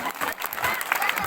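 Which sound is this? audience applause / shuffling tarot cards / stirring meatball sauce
audience applause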